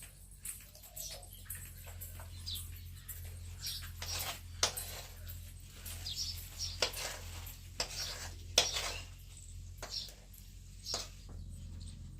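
Utensils clink and knock as ingredients are added a little at a time into three cooking vessels on a village clay stove. Scattered sharp clatters rise over a steady low hum.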